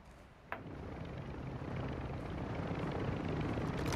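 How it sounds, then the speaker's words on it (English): An enemy helicopter in Warzone 2 flies overhead, a dense continuous rotor rumble that swells louder and nearer over a few seconds, with no voices. "Enemy chopper."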